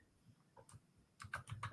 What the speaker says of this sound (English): I'm typing your channel name in